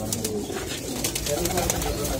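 Giribaz tumbler pigeons coo in a loft, a low murmuring drone that runs steadily underneath a person talking nearby.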